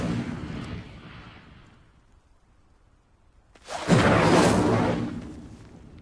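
The Incendio fire spell is cast in Hogwarts Legacy, a loud whooshing burst of flame that rises suddenly and then fades, following a softer earlier rush of sound.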